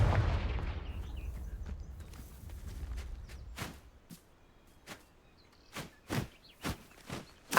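A Confringo spell explosion in the video game Hogwarts Legacy bursts loudly and decays over a few seconds, followed by a series of sharp, separate thuds and impacts.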